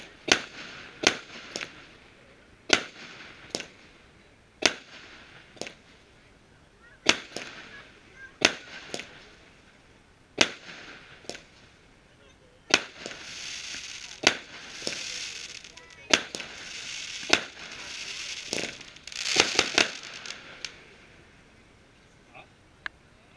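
Repeated sharp bangs from a 16-shot firework battery on New Year's Eve at irregular intervals, with bursts of sizzling crackle building in the middle section, fairly close and loud.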